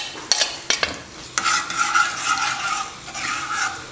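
Chopped garlic hits hot cooking oil for a tadka, a few sharp clinks of a utensil, then a steady bright sizzle with stirring and scraping in the pan, close and fairly loud.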